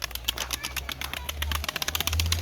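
Pigeons fly over an open lot rented for flying them, their wings giving a rapid run of soft, fluttering flaps close by while a low hum runs underneath.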